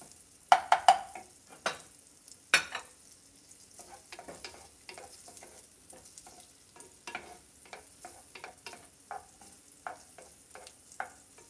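Minced garlic cloves frying in a pan for buttered white rice with carrot and peas, with soft sizzling under scattered utensil scrapes and taps as it is stirred, a few sharper knocks near the start.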